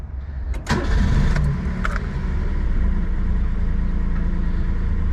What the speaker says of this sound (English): Let's start the car and see if my problems are fixed